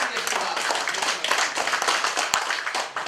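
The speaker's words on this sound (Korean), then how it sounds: "큰 박수로 부탁드리겠습니다." Audience applause at a Korean National Assembly TV tenth-anniversary ceremony and awards event, a dense, steady wash of many hands clapping for about three seconds, fairly loud and continuous.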